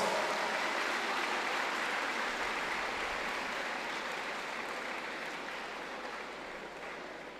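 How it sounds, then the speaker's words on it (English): A dense, steady roar of audience applause at a school speech and prize giving day, continuous and even, slowly tapering in loudness over several seconds with no speech. "Let's give ourselves a round of applause."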